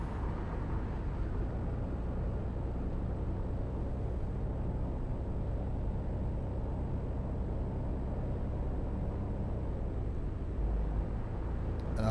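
Coach bus with an 8-speed gearbox cruising at speed in Fernbus Simulator, a steady low engine and road rumble droning evenly throughout with no talking.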